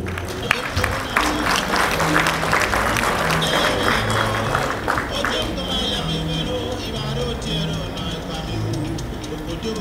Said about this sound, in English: A round of applause for them, please, as they come to the high table